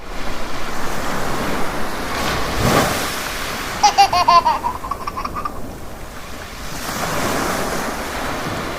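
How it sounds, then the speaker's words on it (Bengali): Sea waves roll and wash continuously against a steady wind rush at a beach ferry ghat, with a brief high whistling chirp in the middle; no one speaks. "সিনেমাটিক শটের মাধ্যমে আল্লাহর সৃষ্টি সাগরের ঢেউ"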